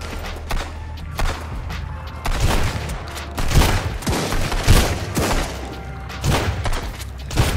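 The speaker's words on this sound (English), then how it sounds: "enemies start raiding your base with automatic weapons" Enemies raiding a base with automatic weapons in Sunkenland, heard as loud, dense bursts of gunfire and heavy thuds repeating throughout, close and continuous, with no talk.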